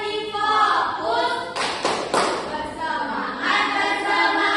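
A classroom of students claps a short rhythmic chant together, a few sharp group claps and thumps landing in quick succession between stretches of chanted voices.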